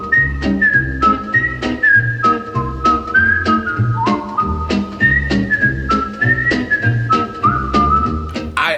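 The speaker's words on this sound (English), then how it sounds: "it's such a simple little melody. It's whistling. There's no other music" A solo whistler carries the simple, lilting melody of The Andy Griffith Show theme song, loud and close, over a steady low rhythmic accompaniment that pulses beneath the tune throughout.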